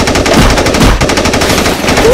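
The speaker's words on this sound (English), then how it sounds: "And then there's just some random guy shooting a gun." Rapid bursts of gunfire, machine-gun style, crackle loudly from a movie trailer playing on a screen, with a brief spoken word over the shots.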